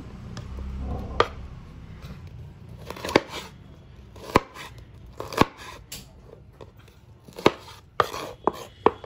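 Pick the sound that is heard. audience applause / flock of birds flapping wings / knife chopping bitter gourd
knife chopping bitter gourd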